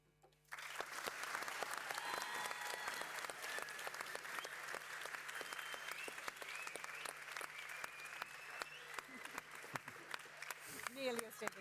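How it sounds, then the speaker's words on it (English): An audience bursts into applause at the end of a panel session in a gym hall, a dense, sustained clapping that starts abruptly after a near-silent moment and continues steadily, fairly distant and soft. "Nearly a standing ovation."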